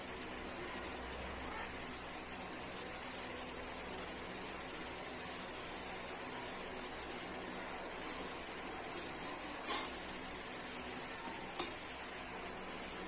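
Milk being stirred in a pot as it thickens into kheer for a butter kheer, a steady soft scraping and bubbling hiss throughout with a few faint spoon clinks near the end.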